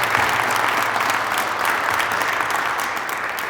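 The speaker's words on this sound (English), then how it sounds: "So let's give that a round of applause." An audience at a Black History Month talk applauds in a dense, steady round of clapping that carries on throughout and fades slightly toward the end.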